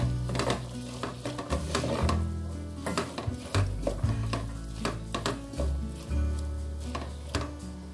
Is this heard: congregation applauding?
no